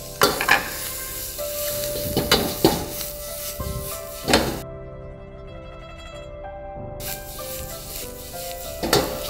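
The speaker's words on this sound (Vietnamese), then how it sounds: "Rồi thịt xong mình cho cái đông cô vô xào" Pork, sliced shiitake mushrooms and shredded chili stir-fried in a pan, with a steady sizzle and a few loud scraping stirs and clanks near the start and end, and a brief quieter stretch in the middle.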